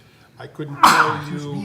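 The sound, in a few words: sneeze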